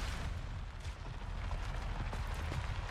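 Explosion from Venture's ability in Overwatch 2: a dense, rumbling blast with crackling debris that fills the moment, low and loud throughout.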